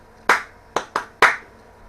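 Hands clap out a short rhythm of four crisp, close claps, with the middle two quicker together and a final sharper clap, in a quiet room.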